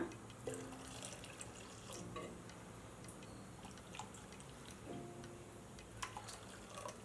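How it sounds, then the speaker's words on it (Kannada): Water is poured into jowar flour for instant dosa batter, a soft, continuous trickle with faint splashes and small clinks close by, quiet and without talk. "ಈಗ ಇನ್ನೊಂದು ಕಪ್ನಷ್ಟು ನೀರು ಹಾಕ್ಕೊಳ್ಳೋಣ"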